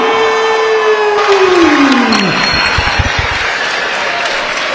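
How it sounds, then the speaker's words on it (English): Crowd applause after a boxing match at York Hall in London, a broad continuous roar of clapping with cheering and a descending siren-like tone fading out, a commentator's voice faintly underneath. "Huge applause from the crowd"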